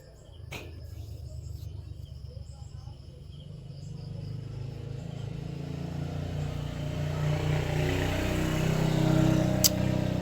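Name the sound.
many vehicles passing by on road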